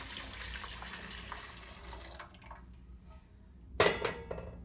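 Strained tea being poured back into a cooking pot for a Mongolian dumpling tea soup gives a soft trickling of liquid, followed by a brief sharper clank of metal cookware near the end.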